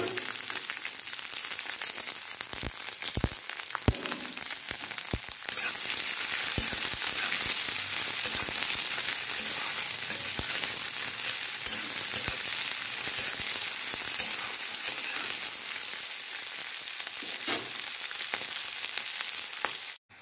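Onions frying in a pan for kanda poha, a steady broadband sizzle throughout with occasional sharper crackles and pops, close and fairly loud, no talking.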